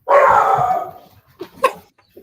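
A chihuahua gives one loud, close, drawn-out yelping bark followed by a couple of short, fainter yips.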